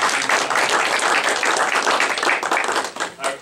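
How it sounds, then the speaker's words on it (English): A crowd claps for a guest speaker after a farm talk on white clover in pastures, dense and fairly loud applause that holds steady before thinning and fading out near the end, with faint voices mixed in. "let's give our guest speaker here a round of applause"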